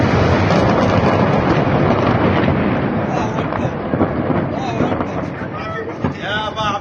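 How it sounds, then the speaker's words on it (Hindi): An Israeli airstrike on a residential building in a southern Lebanon village produces a loud, sustained roaring blast rumble that slowly fades amid wind-like noise, recorded from ground level. "आप देख सकते हैं कि किस तरह का धमाका हुआ है"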